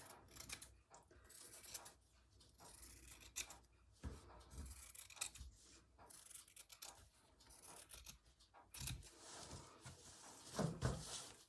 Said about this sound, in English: I'm just going to trim the rest of this underneath off.